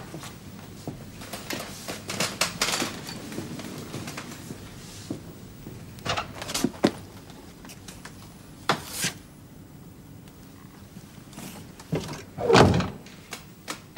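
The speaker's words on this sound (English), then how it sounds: "The door." A door opens and closes in an old wartime room, giving several soft thuds and latches with a firmer knock near the end and quiet room tone between.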